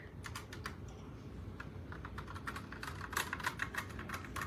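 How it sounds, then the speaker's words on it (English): Typing on a Newmen GM610 60% wireless mechanical keyboard: quick irregular runs of close, crisp key clicks over a low steady hum, with no voices. "I'm literally typing in every single button right now."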